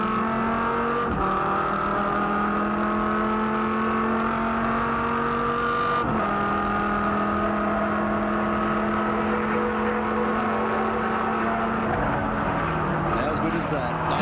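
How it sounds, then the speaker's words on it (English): A V10 8-litre race car engine roars at high revs at Sandown, its steady howl shifting pitch at each gear change, loud and sustained throughout. "Let's listen to the awesome sound of this V10 8-litre."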